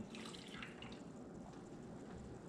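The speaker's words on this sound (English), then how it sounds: "pour the hot water off" Hot water is poured out of an AeroPress Go cup, a soft, quiet trickle and splash that runs on without a break and ends in a brief louder knock.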